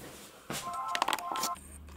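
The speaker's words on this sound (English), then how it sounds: "And there's my phone right on cue." A phone rings with a brief burst of bright electronic tones lasting about a second, close by, alongside a voice.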